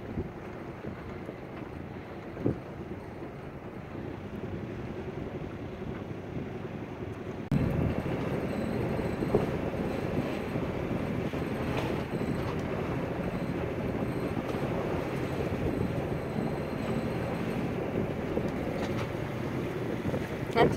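A sailboat motoring under engine power out of a harbor, a low continuous engine drone mixed with wind buffeting and water wash, growing louder partway through and staying steady without speech.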